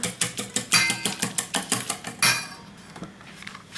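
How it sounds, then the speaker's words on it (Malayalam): Batter for chembappam, made with rice flour and a pinch of salt, is whisked briskly in a bowl, a quick rhythmic clatter of utensil against the bowl that speeds up, then stops, leaving quiet. "നന്നായിട്ടൊന്ന് ബീറ്റ് ചെയ്യാം"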